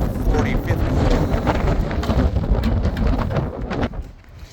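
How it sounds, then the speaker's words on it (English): Strong, gusty wind blows outdoors as a storm approaches, a loud, rushing roar buffeting the microphone and surging in waves before easing slightly at the end. "I feel like I got about a 30-mile-an-hour headwind at times, with gusts around 40, 50."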